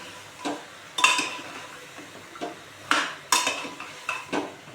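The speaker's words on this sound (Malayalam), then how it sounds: "എന്നിട്ട് ഈ പച്ചക്കറി എല്ലാം നല്ലപോലെ ഇളക്കി കൊടുക്കണം." A spoon clanks and scrapes against a pan while vegetables for pav bhaji are stirred in butter and oil, with sharp metallic knocks arriving every half second or so over a quiet background.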